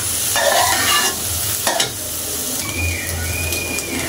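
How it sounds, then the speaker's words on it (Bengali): Steamed potatoes and onion stalks stir-fried in a pan, giving a steady close sizzle broken by a few scraping stirs and light utensil knocks, with no talking. "এখন এই সবজিগুলোকে আমি এর ভিতরে দিয়ে দিচ্ছি, দিয়ে একটু নাড়াচাড়া করব ভালোভাবে, যেন এটা একটু সুন্দর ভাজা ভাজা হয়।"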